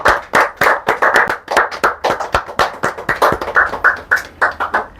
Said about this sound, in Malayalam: അപ്പോൾ എല്ലാവരും ഒന്ന് ക്ലാപ്പ് ചെയ്യുക